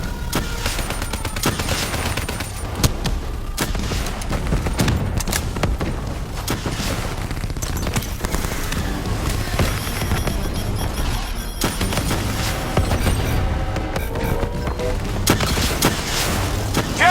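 Sustained gunfire in the video game Call of Duty Black Ops 3, dense rapid automatic bursts with booms mixed in, continuous and loud throughout, with occasional voices over the battle.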